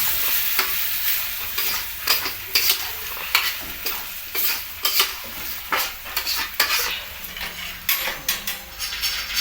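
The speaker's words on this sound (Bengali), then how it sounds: "খাসির মাংস এবং মশলা একসঙ্গে ভালো করে কষবে" Goat mutton and spices stir-fried together in a karahi: steady close sizzling under rhythmic scraping and clanking stirring strokes, continuous throughout with no voices.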